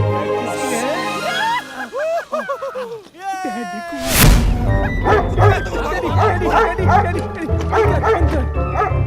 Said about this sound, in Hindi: डैडी ने हवेली में हमारी सिक्योरिटी के लिए कुत्ता रखा है।